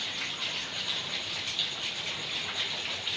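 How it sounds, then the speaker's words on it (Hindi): Heavy rain pours in a steady, dense hiss with no pauses, close and fairly loud, with no voices over it. "बारिश देखें, इतना प्यारा मौसम, तेज़ बारिश।"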